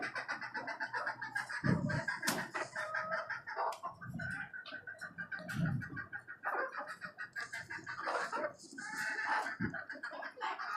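Native chickens on a poultry farm cluck and call in a busy, close chorus, with irregular overlapping clucks and an occasional crow-like call.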